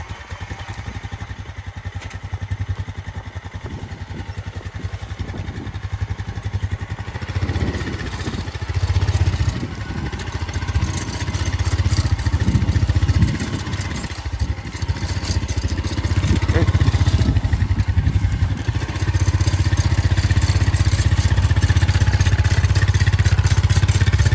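An engine on a farm where a rider sits side-saddle throwing out fence posts for strip grazing starts and runs, a steady mid-pitched rumble that grows louder and busier partway through, with clattering and brief voices underneath.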